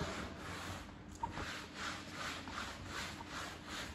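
A brush scrubs fabric cleaner into a car floor rug with repeated back-and-forth strokes, a soft rhythmic rasping at a steady pace.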